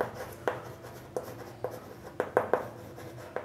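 A pen writes an answer to a Class 6 fraction math problem, with a series of short, close scratchy strokes and taps that come in irregular bursts and are heard alone, with no talking.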